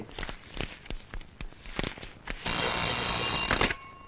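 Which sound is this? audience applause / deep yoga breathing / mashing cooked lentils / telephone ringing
telephone ringing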